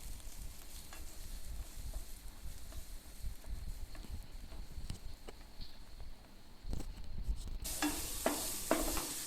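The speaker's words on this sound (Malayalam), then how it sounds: "ഇനി സവാള കൂടി ഒന്ന് വാടി വരുന്നത് വരെ നമുക്ക് നല്ലപോലെ ഒന്ന് ഇളക്കി കൊടുക്കാം" Finely chopped onion being stirred and sautéed in a hot pan for a chicken wrap filling: soft scraping strokes over a low, steady sizzle, ending with a louder burst of frying near the end, no voices.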